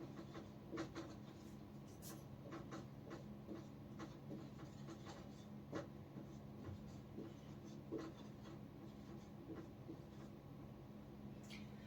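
Faint, quick strokes of writing on a board as an English sentence is written out in a Hindi language lesson, with short scratchy marks repeating at an even pace.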